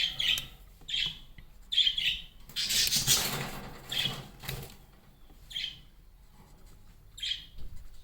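Nearby caged pet birds chirp and squawk in bursts, with a loud flutter of wings in the middle and more sharp tweets afterward.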